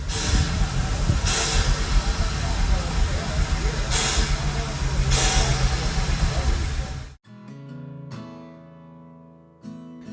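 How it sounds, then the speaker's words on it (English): A 1905 Baldwin 4-6-0 steam locomotive runs with loud, continuous rumbling and hissing broken by sharp bursts, then the noise cuts out and a clear mechanical tone follows. "Number 25 is a 460 steam locomotive."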